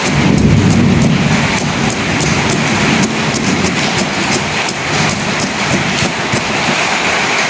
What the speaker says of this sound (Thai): โอ้ฝนตกพี่น้องเลย